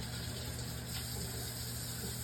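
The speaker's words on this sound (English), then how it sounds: "You want to rinse all your toys off so they're clean and not absolutely disgusting." Water runs steadily over aquarium toys as they are rinsed clean, a constant close rushing gush with a low mechanical hum underneath.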